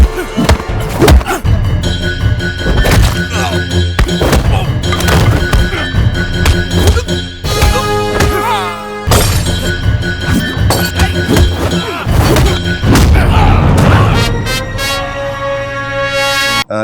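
Heavy punch impacts from the film Shiva, loud booming thuds and cracks landing in bursts over dense music and effects, close and forceful.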